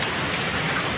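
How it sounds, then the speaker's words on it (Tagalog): Steady rain falling after a typhoon, a dense, even hiss of drops on surfaces, close and continuous with no voices. "Hindi naman ganong kalakasan yung ulan"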